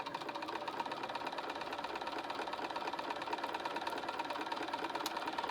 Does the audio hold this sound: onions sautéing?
no